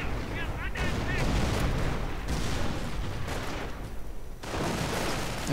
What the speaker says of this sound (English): His howitzers are firing once more